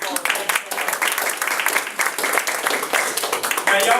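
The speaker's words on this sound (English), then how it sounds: "let's give Richard a round of applause." An audience at a talk applauds a speaker named Richard, brisk clapping in a steady close patter at moderate loudness, continuing evenly for a few seconds.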